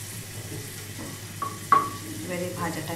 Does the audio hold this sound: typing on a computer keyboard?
no